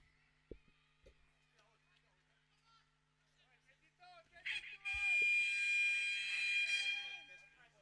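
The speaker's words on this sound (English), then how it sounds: "The halftime buzzer has sounded." A halftime buzzer at a rugby sevens cup final between Malaysia and Singapore blares as one long, loud, harsh electronic tone over a faint stadium crowd, after earlier quiet commentary.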